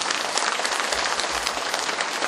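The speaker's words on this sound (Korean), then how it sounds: "우리 박수 한번 쳐봅시다." A hall full of public officials at a lecture in the Buyeo county office applauds. The dense, even clapping sounds like rain, close and loud, and continues without pause.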